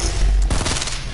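A quick cluster of gunfire from an online shooter game, likely a sniper or rapid burst, booms with a heavy low thump, then a rattling follow-up.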